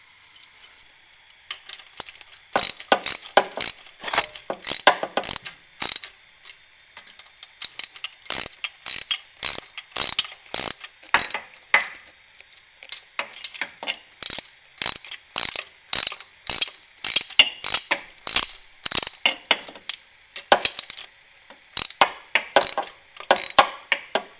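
A puller's ratcheting tool clicks rapidly and repeatedly as it draws the crankshaft pulley off a 3800 3.8 engine, sharp close ratchet strokes in uneven bursts with short pauses, no talking.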